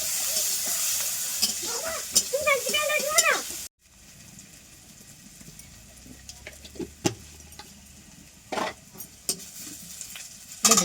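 Ginger-garlic paste sizzles and hisses as it is stirred into browned onions in a pan, with someone talking over the first few seconds, then a softer steady frying hiss and occasional scraping.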